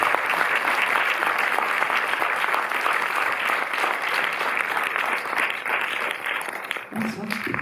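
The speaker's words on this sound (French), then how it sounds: "je vais vous demander surtout d'applaudir Benoît Jacot et Charlotte Gainsbourg" A theater audience at the Arlequin cinema in Paris gives sustained, dense applause for Benoît Jacquot and Charlotte Gainsbourg at a film presentation, filling the room evenly before tapering off at the very end.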